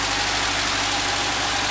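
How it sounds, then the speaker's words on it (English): A 36hp Volkswagen engine fitted with a Dietz carburetor idles steadily, giving a loud, even, continuous running drone with no talk over it. "Little engine runs like a top."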